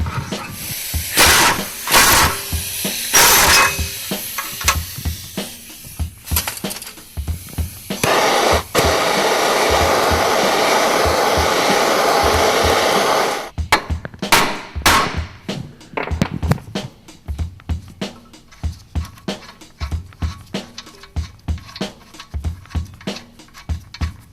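Torch heating a seized front suspension bolt on a Foxbody Mustang in a garage: a steady roaring hiss runs for several seconds, framed by sharp clanks, taps and scrapes of tools before and after.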